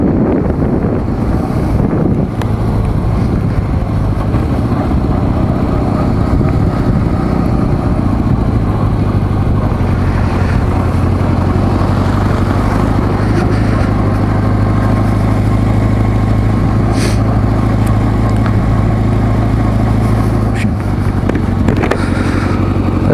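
A Kawasaki Z400J motorcycle rides along, its low engine drone steady beneath heavy, constant wind buffeting across the microphone, near and loud with no talk.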